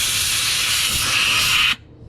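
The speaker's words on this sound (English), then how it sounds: "you should be able to hear the brakes release." Air brakes release with a loud, sharp, steady hiss lasting under two seconds before cutting off abruptly, heard up close with no talk.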